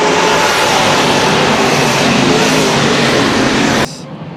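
Late model race cars thunder around Madera Speedway in a roaring, continuous wall of engine noise, loud and close, that cuts off abruptly near the end.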